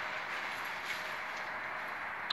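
Trains passing near München Riem station, a continuous broad rumbling rush at an even level, with no talk.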